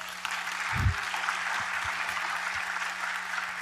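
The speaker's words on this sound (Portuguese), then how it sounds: "eu peço uma salva de palmas para a Sara." Audience applause at a national forum on the rights of people with disabilities, a steady, even wash of clapping heard throughout with a brief low thump near the start.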